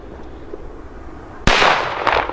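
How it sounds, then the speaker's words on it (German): A single sharp firecracker bang from a Weco Bombette fireworks assortment goes off outdoors, loud and close, followed by a lingering crackling rumble with no talk. "in diesen Sets sind die Böller immer ein bisschen besser"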